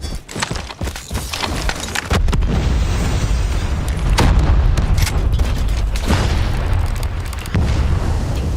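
Frag grenade explosion in Call of Duty: Mobile during a championship match, a heavy boom within a constant loud wash of game noise and gunfire bursts.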